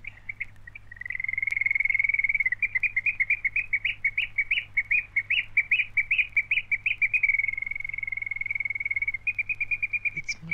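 A nightingale sings in a long continuous run of rapid, bright trilling phrases, clear and fairly close over a low steady background hum, with no voices.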